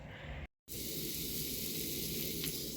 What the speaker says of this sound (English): Making spam and eggs for breakfast.